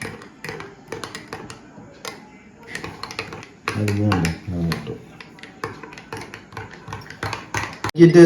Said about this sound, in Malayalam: ഇത് നല്ല ഇളക്കുക.